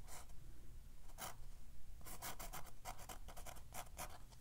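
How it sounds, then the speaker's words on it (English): A marker scratching out words on a watercolor card: soft scratchy strokes, sparse at first, then a quicker run of close, faint, rhythmic scribbles. "you can write words up in here, whatever marker you have"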